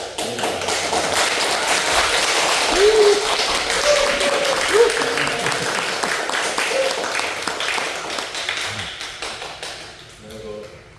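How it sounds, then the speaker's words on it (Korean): A church congregation applauds as a pastor comes forward, a steady wash of clapping heard under a voice and some sung or spoken tones, fading out near the end. "목사님 나오실 때 박수로"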